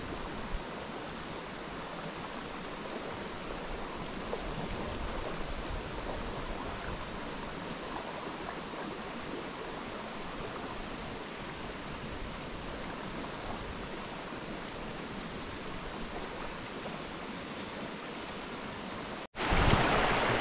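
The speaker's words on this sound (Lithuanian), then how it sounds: "Upė čia tokia visai graži, bet neina man užmesti." A river flowing in Norway, a steady broadband rush of water heard close and continuous, ending with a brief cut and a sudden louder burst.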